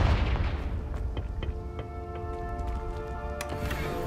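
A Confringo blast spell fires in Hogwarts Legacy, a burst of booming impact at the start that settles into a tonal magical ringing with scattered sharp pops, moderately loud and with no talking.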